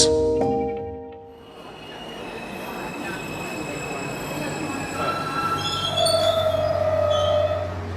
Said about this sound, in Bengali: স্টেশনে ট্রেন থামিতেই